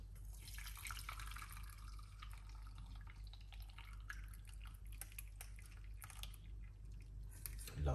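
Juice made from onion, parsley, ginger, cloves, lime and lemon pours into a cup, a quiet trickling and splashing stream with scattered drips, close up and alone.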